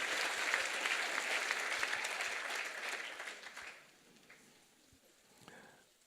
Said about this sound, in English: Give that baby a round of applause.